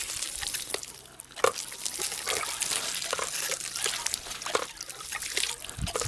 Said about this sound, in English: There's water coming out of our output pipe.